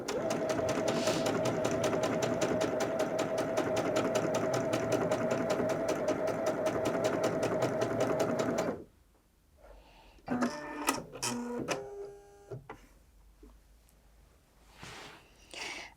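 A Bernette b77 sewing machine stitching a row of decorative hearts into fabric, a rapid steady mechanical chatter up close for about nine seconds, then stopping, followed by a few faint clicks and handling noises.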